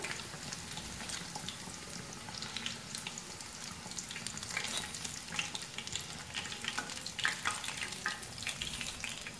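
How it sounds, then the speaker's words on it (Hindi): Homemade chicken nuggets fry in hot oil with a continuous crackling sizzle and occasional stirring scrapes, moderately quiet and steady throughout, without any talking. "बाकी जो चिकन नगेट्स बच गए हैं उनको भी सेम उसी तरह फ्राई करेंगे।"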